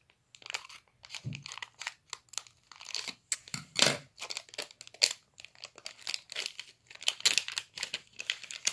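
Scissors cut carefully into a foil Cafe Chaos card game booster pack, giving a string of close crinkling, crunching snips and rustles in irregular bursts, with no talking.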